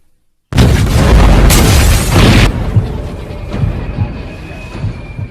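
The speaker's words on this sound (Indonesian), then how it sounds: "bom pun meledak dan berhasil memporak-porandakan tempat tersebut." Bomb explosion tearing through a building in the 2008 action film Wanted: after a brief silence, a sudden, very loud boom bursts out and rolls into a long, crackling rumble that slowly fades.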